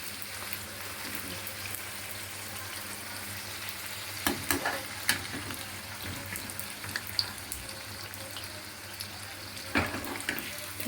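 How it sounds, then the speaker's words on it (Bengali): Luchi puris deep-frying in hot oil, a quiet continuous sizzle with occasional sharper crackles and stirring clinks. "লাল লাল করে ভেজে নিয়ে তুলে দিতে হবে।"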